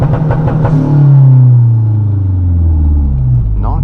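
A 2011 Mazdaspeed3's engine revs loudly on launch control, held near 4,600 RPM. It sounds as a deep, steady droning rumble close to the car, with slight pitch wavering and brief clatter at the start.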